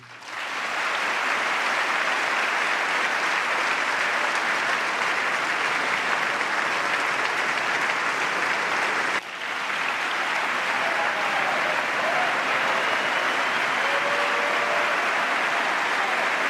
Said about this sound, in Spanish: Una ovación empezando, una ovación en el medio, una ovación al final.